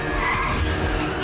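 A motorbike skids and crashes in a film scene, heard as a steady, loud scraping hiss with a continuous vehicle drone, lasting about a second without voices.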